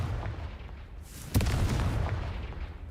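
A Confringo blast spell goes off in a Harry Potter video game as a sudden booming burst that rings out over a steady low rumble, then trails into a rough, noisy decay.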